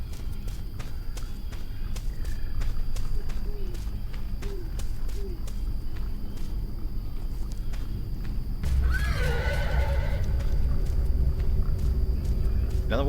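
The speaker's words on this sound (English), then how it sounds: "Another one of them wild horses out here." A wild horse in a video game whinnies loudly amid the thud of hooves, heard over a low rumbling ambience while a voice talks quietly throughout.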